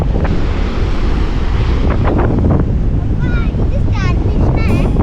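Strong gusting wind buffets the microphone over the roar of surf on the sandy beach at Kelshi, Maharashtra, with faint voices briefly audible beneath the loud blustery noise.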